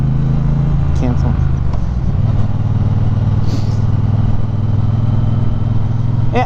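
A 2018 Triumph Bonneville Speedmaster cruiser motorcycle rides along with a steady loud engine drone and wind rumble, a rider talking over the continuous engine note.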